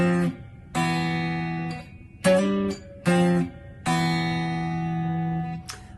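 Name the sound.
guitar fifths sliding 5-7 to 3-5 on fourth and third strings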